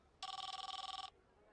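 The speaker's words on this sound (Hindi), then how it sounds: "बीवी का फोन है।" A telephone gives one short, loud, fast-trilling electronic ring that lasts just under a second and stops abruptly against a quiet background.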